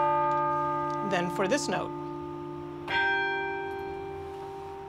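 A large church chime bell, struck by a heavy clapper pulled by metal cables from a keyboard, rings once with a long sustained tone after someone briefly speaks nearby.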